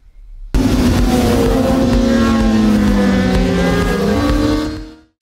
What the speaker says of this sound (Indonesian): Dengan menunggangi motor Honda CBR 600RR, Rafa dengan mudah menempati posisi pertama